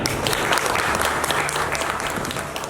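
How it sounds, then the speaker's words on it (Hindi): An audience at an organic farming gathering in Nandurbar, Maharashtra, breaks into dense, steady applause. The many hands blend into a full, even roar that holds for the whole stretch, with no voices over it. "आप सबके लिए एक बार जोरदार तालियां।"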